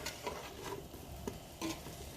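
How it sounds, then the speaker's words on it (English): Meat browning in a pot for New Mexico red chile, a steady soft sizzle with a few stirring scrapes, quiet and close with no talking. "So basically, you're just browning the meat"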